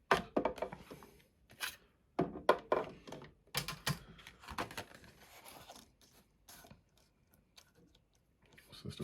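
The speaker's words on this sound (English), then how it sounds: "I'm going to bring in the cutting machine" Die cutting machine pressing cardstock through a die for a Stampin' Up! winter birthday card, giving a series of sharp clacks and crunching thuds in irregular bursts, close and moderately loud, with no talking.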